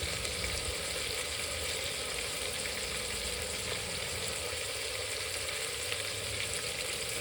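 Tomato, onion, mint and coriander frying in oil for kushka rice, a steady, low, even sizzle close by with no talking.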